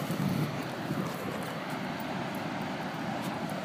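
Big ocean waves surge far below a mountain slope, heard as a steady, broad wash of surf mixed with gusty wind buffeting the microphone, continuous and without voices.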